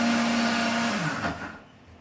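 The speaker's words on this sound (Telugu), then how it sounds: "ఇప్పుడు వీటిని మిక్సీ పట్టుకుందాం" A kitchen mixer grinder whirs loudly as it grinds coarse chutney for sambar and idli, a steady motor drone that slows and dies away near the end.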